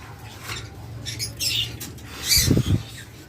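Caged pet lovebirds give a few short chirps and squawks, with brief rustles and wing flutters in between and a faint low hum underneath.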